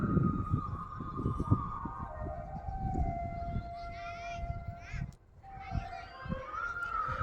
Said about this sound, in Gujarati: ત્યાં મોરલો સાડા સાત વાગ્યા તે બોલે છે